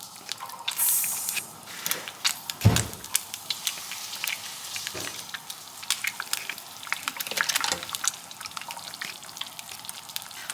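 An egg cracked into a foil-lined pan spits and sizzles in a steady frying crackle with scattered pops, a sharp crack-like tap near the start, close and fairly quiet, with no talking.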